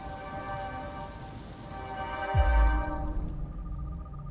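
Rain in the video game Detroit: Become Human, a steady wash of falling drops over a low tonal hum, with a sudden deep thud midway that leaves a heavier rumble behind.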